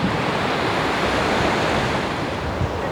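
Steady surf rolls and washes along Fuente Beach, where the water runs murky from freshwater seeping out and carrying soil, forming a continuous, fairly loud roar with no distinct breaks and no voices.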